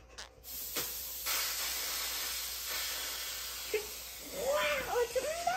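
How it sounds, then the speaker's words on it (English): A Giraffe Tools 2200 psi pressure washer hisses steadily as its trigger is held to bleed air from the line, a long thin spray noise with faint voices and a few knocks in the background. "We'll pull the trigger, bleed the air out."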